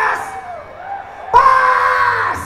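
A concert crowd at a live band show at Jakarta Fair shouts and screams loudly in two sustained bursts, the second louder and rising, with the cheering voices dominating.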